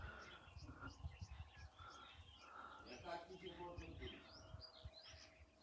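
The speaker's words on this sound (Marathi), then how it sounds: "खूप शांतता, पक्ष्यांचा किलबिलाट" Various birds chirping and calling on a cool, green morning at Mahabaleshwar, a busy layered chorus of faint tweets near and far over low background rumble.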